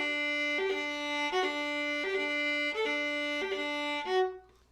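Bowed viola repeating a short-long rhythm, a quick note leaping into a held longer one several times, played alone and close.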